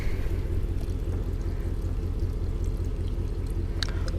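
Fuel draining from a container during refueling on a road-building job, a steady close pouring rush over a low continuous rumble, with a faint metallic clink near the end.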